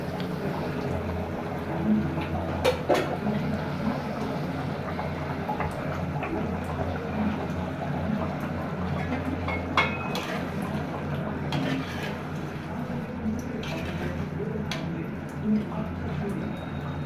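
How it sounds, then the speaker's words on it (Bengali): Chinese duck curry in a covered pot on a stove, a constant low bubbling rumble with occasional lid and utensil clinks, close and steady throughout, while a voice speaks over it. "দেখুন তরকারিটা কত টকবক করতেছে, কালারটা কত সুন্দর।"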